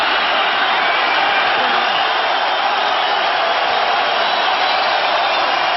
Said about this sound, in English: the crowd's going mad for Mikkel Kessler